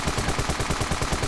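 Rapid automatic rifle fire in the game Ravenfield, about six evenly spaced shots per second in a loud, unbroken burst.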